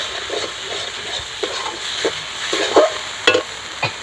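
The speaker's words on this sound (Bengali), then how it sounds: "এটাকে আমি ভালোভাবে কষিয়ে নেব।" Spice paste for a Bengali prawn malai curry fries in a pan, giving a steady close sizzle and hiss with a few soft stirring scrapes and clicks, and no voices over it.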